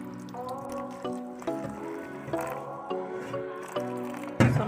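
Small dried omena fish are swished and rinsed in a basin of water, with soft sloshing and squishing that rises in rhythmic waves, plus a louder splash at the end; tonal background sound runs underneath.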